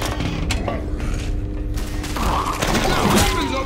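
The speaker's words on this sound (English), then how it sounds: "Yes. Reloading." Gun reloading in a dark horror video game, a quick series of mechanical clicks and ratcheting clacks close up, with game ambience and music underneath.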